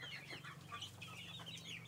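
Cobb 500 broiler chickens cluck softly in a poultry house, with overlapping bird calls over a steady low hum; one bird has a twisted neck.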